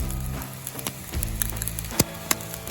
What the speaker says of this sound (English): Starting to get a sizzle out of one of them here.